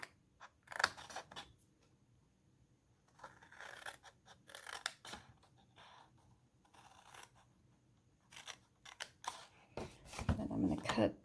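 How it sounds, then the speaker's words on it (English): Scissors snipping through cardstock along score lines for a gift card holder, a series of crisp close cuts in short bursts with soft paper handling between them. "I'm going to cut up straight to the score lines, to the second score line."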